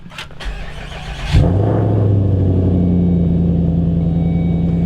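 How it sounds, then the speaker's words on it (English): A straight-piped Volvo S80 V8 cold start: the engine cranks briefly, then fires with a loud burst and settles into a deep, raw, rumbling idle, loud and close. "let's get a straight pipe cold start on the S80"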